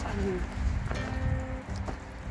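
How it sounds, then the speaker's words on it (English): Rain falls on a hiking path along the Mountain to Sea Trail, a soft continuous patter with low rumbling background noise and a few brief faint sounds over it. "It's raining, and at some point it's going to be dark out."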